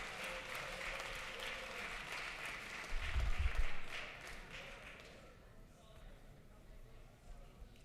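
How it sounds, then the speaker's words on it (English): Applause rises in the chamber of a state House of Representatives for visiting third graders, a dense clatter of clapping that swells then fades out, with voices beneath. "Give them another round of applause"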